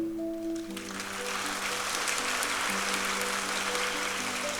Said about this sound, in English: I think we can have an applause over here.